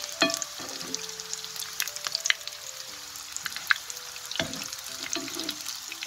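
Breaded cauliflower fritters and homemade cordon bleu fry in a pan, a close crackling sizzle with scattered pops and occasional utensil clinks, fairly steady throughout with no talking.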